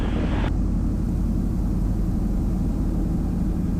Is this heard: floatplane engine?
yes